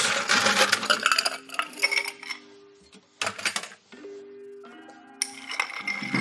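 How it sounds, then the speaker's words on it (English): Ice cubes clattering into a glass for a cacao coffee cocktail, then a spoon stirring and clinking against the ice, with bright rattles and ringing tones, close and fairly quiet. "And we want to add plenty of ice."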